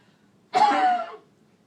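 A single short cough, close and clear, breaking a quiet room tone before fading back to near silence.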